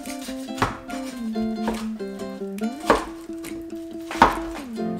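A knife slices through rolls of ice fish kimbap, giving three or four sharp, distinct chops against a board beneath a steady musical background.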